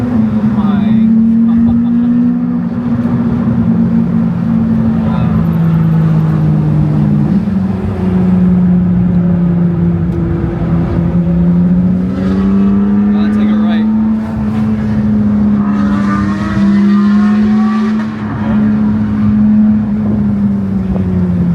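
A Porsche 992 GT3 engine drones from inside the moving car, its pitch rising and falling through gear changes as it accelerates, with people talking over it.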